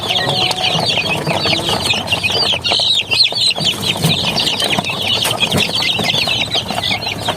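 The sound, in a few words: chicks and chickens clucking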